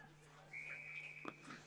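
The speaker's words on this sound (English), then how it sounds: "And there's a whistle being blown" An umpire's whistle shrills during a senior Australian rules football match, one sustained blast from the distance as crowd murmur and faint talk continue behind it.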